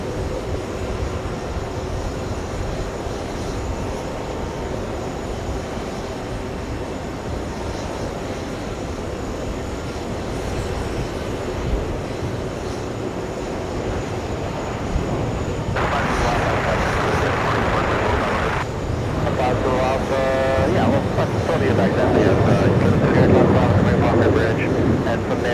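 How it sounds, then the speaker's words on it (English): A KLM airliner taxiing at JFK airport, a steady engine hum and whine that swells louder toward the end as the jet moves, with broadband rushing noise layered over it. "KLM is moving"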